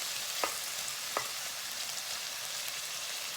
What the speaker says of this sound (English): we just wait for the onions to turn brown, and already the smell is coming out of the cloves and the cinnamon with the oil and the onions